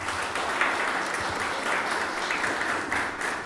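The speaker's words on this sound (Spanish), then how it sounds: "les pido un aplauso para ellos." Steady audience applause for panelists at an anti-corruption congress, a dense, even wash of clapping lasting throughout at moderate loudness with no talk over it.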